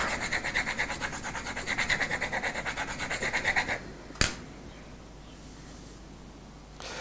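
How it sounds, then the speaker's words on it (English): A knife blade is rubbed over a graphite pencil to make shavings: quick, rhythmic scraping strokes up close for a few seconds, then a single sharp click and quiet. "Just take your knife and just rub it over your pencil like that."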